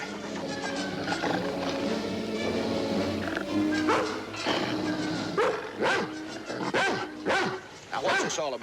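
Two dogs, one of them the collie Lassie, bark and snarl as they fight up close, harsh overlapping barks and growls coming in rapid bursts with rough, strained tones mixed in.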